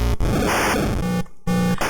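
Harsh, crunchy burst of distorted white noise from a ship exploding in the 1983 Odyssey2 game Demon Attack, loud and gritty with brief dropouts and stuttering pulses.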